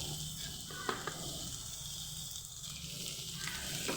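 Small chicken pieces sizzle steadily in a hot pan while being stirred for a bread chicken snack, a continuous close frying hiss with a few brief clinks of a utensil against the pan.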